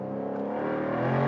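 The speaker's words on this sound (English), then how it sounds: "for that exhaust note. You hear that?" A 2024 Jaguar F-Type R V8 roadster exhaust rumbles steadily and loudly up close, a deep continuous engine note that swells slightly toward the end, with no talking.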